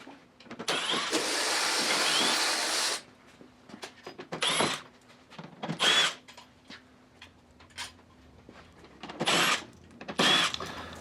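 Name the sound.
removing screws from 2021 Ford Mustang lower valance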